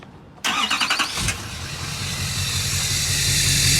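A starter whirs for about a second, then a 2014 GMC Sierra 2500 Denali Duramax diesel pickup with full exhaust and MBRP muffler catches and settles into a deep, loud, steady rumble with a hissing edge.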